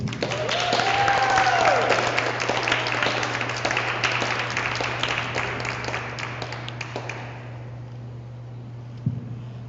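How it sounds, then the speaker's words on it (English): An audience at a poetry reading applauds a poet, a full burst of clapping that gradually thins and fades toward the end, with a low steady hum beneath. "Let's have a warm round of applause for Joel Lewis."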